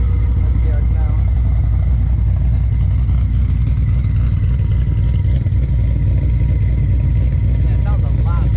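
A 2014 Ford Mustang GT500 fitted with a new sprag and Magnaflow Street series exhaust produces a deep, loud, continuous engine rumble, heard close up throughout the test drive.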